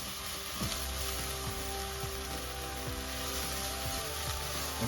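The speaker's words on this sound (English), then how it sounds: "now we're going to add the ginger garlic paste. As it's frying" Ginger garlic paste frying in a pan for methi pulao with coconut milk, a steady, moderately quiet sizzle that runs without a break, with a few faint stirring knocks and no talk.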